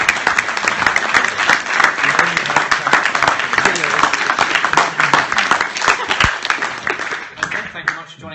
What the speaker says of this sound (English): Just a big round of applause to all our panellists, Charlie Evans, Stephen Hawkins, Laura Jane